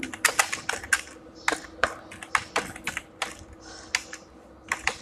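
Fast, uneven typing on a computer keyboard, a dense run of crisp close key clicks and taps with short pauses, heard alone without talk.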